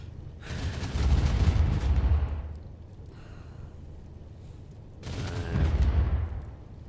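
Assault cannon fire in the video game RimWorld: two separate heavy booming bursts of rumbling gunfire, each lasting about two seconds with a quieter stretch between, loud and close with no talking.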